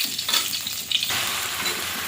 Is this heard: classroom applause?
no